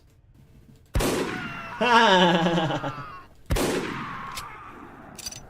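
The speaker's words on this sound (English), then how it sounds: "Press mouse 1 to shoot the enemies." Gunfire from shooting enemies in an itch.io horror video game: two sharp, loud shot bursts about two and a half seconds apart, each trailing off, with a short spoken word and some tonal game sound between them.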